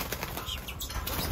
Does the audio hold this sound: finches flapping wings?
yes